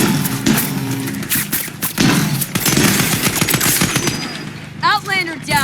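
Rapid automatic gunfire rattles in the Scavengers video game, loud, close, dense bursts with sharp cracks, ending with a brief electronic warbling effect.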